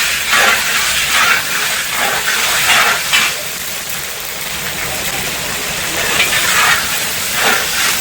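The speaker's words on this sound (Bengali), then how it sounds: "টমেটোটা আর শুকনো লঙ্কা তেজপাতা পাঁচফোড়নের সাথে ভালো করে এই টমেটোগুলো ভেজে নেবে" Tomatoes frying in hot oil with dried red chilli, bay leaf and five-spice seeds for a Bengali chhechra dish, giving a steady, close, broadband sizzle and hiss that swells and eases throughout.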